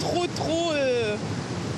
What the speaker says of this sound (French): c'est la première fois que je vois Rivière du Mas il coule comme ça aussi fort